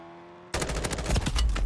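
Sudden burst of automatic gunfire in a first-person shooter game, loud and close, rattling rapidly after a moment of quiet.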